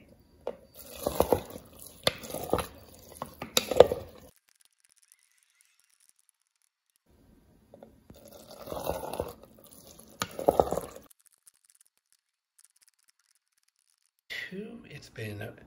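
Makgeolli mash made with Korean nuruk is stirred during fermentation. Wet, squelching stirring comes in three separate spells with near-silent gaps between them, close and fairly quiet.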